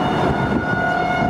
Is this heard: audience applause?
no